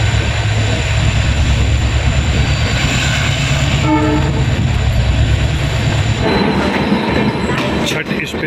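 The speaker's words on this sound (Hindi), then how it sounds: "छठ स्पेशल ट्रेन इगतपुरी को क्रॉस करती हुई।" A Chhath special passenger train rumbles past at Igatpuri with a continuous loud roar of wheels and carriages, a horn tone sounding briefly midway and the pitch of the passing shifting near the end.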